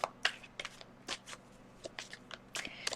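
Playing cards being shuffled at close range in a quiet room, producing a series of crisp riffling bursts and soft snaps spread unevenly across three seconds, with no voices.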